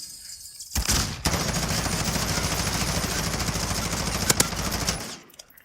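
Sustained automatic gunfire from Modern Warfare multiplayer rips through a building's walls, a loud, dense, continuous burst of rapid shots lasting several seconds, preceded by a couple of single shots and ending abruptly.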